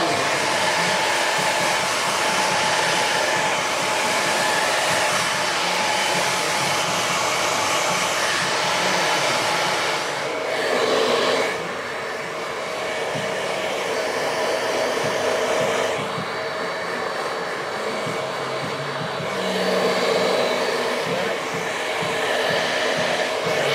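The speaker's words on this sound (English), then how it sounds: "I'm going to use my nozzle on my hairdryer" A hair dryer fitted with a nozzle blows steadily and loudly at close range for over twenty seconds in a barbershop, its airflow shifting slightly in tone as it is moved, with no one speaking.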